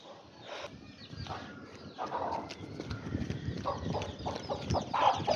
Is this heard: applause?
no